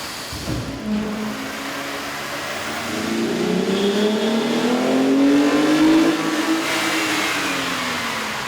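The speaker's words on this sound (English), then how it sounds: "we ran the vehicle on the dyno to test the sound comparison versus the stock intake" A Jeep Wrangler 3.6L engine with an aftermarket air intake revs up loudly on a dyno, its pitch climbing and sweeping steadily as it accelerates, then holding a strong, continuous drone.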